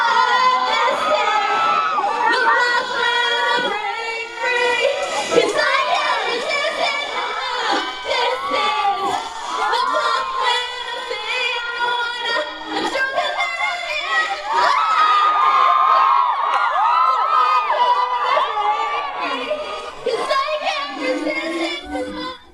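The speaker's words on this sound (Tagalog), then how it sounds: "It was a huge wave of energy as the crowd chanted along" A large crowd at a live concert show in Digos cheers and chants along with the performer, loud, dense and sustained shouting and whooping throughout with high-pitched voices.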